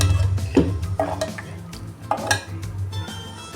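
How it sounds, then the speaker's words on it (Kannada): Salt stirred into a Mangalore-style fish curry with kodai fish in a pot, with several scraping, clinking spoon strokes against the pot over a low bubbling simmer, no voices. "ಉಪ್ಪು ಹಾಕಬೇಕು ಮಿಕ್ಸ್ ಮಾಡಬೇಕು"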